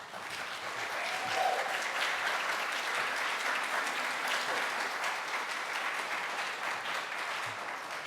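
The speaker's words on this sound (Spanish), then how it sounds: "Un aplauso, por favor." Audience applause at the opening ceremony of a Global Game Jam, a sustained, dense round of clapping from a seated crowd that swells early and holds steady for about eight seconds with no talk.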